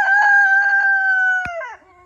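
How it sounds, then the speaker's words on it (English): A homestead rooster crows loudly and close by in one long, drawn-out call that trails off at the end, with a brief sharp click partway through. "and we have chickens, and that rooster loves to crow."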